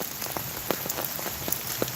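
Light rain patters steadily outdoors, with scattered individual drops tapping clearly against surfaces over a soft continuous hiss.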